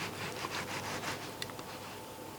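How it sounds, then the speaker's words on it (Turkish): A knife scrapes pin bones from a raw sea bass fillet, making close, soft repeated scratching strokes over a steady background hiss. "Şöyle bıçakla ince bir şekilde buradaki kılçıklarını alacağız"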